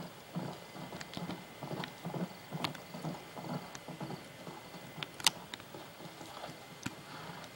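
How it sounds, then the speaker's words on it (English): Horse hooves clop in the Red Dead video game: a quiet, irregular patter of hoofbeats with one sharper knock near the end, and no talking. "Okay, come here, stupid horse, come here."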